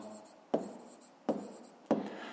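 Pen strokes writing a fraction in a notebook during a fifth-grade maths lesson: three sharp taps at steady intervals, each followed by a short scratchy scrawl, close and fairly quiet, with no talking.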